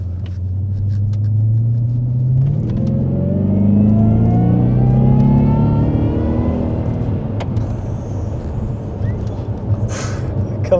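A supercharged Jaguar XJR fitted with a Stage 1 intake accelerates hard on the road, its engine note rising in a loud sweeping whine and rumble before easing off, with road noise and faint talk around it.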